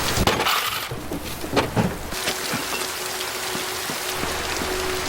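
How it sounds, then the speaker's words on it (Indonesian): Steady rain falls on an outdoor surface, with loud clattering drops and a few sharp splashes early on, then a continuous even patter with periodic drips for the rest of the stretch. "Karena turun hujan, Sowon pun OTW dengan payung kuningnya, dan"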